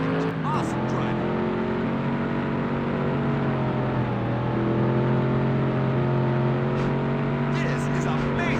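A Chevy race car roars through a racing video game, its engine holding a loud, continuous drone that rises and dips in pitch as it accelerates and eases off.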